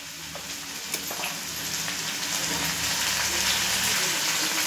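Garam masala, turmeric and homemade spice mix fry in hot oil for a mandeli fish curry, giving a continuous close sizzle that builds steadily, with a few faint stirring knocks.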